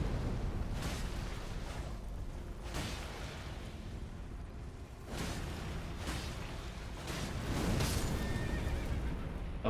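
A horse whinnies repeatedly in the video game Elden Ring: Shadow of the Erdtree, several sharp neighing bursts spaced over a dense, rumbling battle backdrop.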